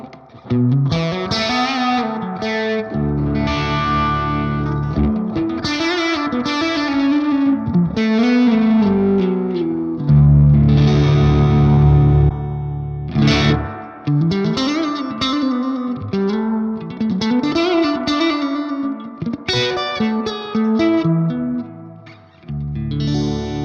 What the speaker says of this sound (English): just choose to use the reverb from the Space Echo. From all that nice spring reverb.